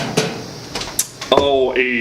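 A metal drawer from an old locksmith's cabinet slides and knocks shut with short, close clatters and a ringing metallic tail. Voices talk around it.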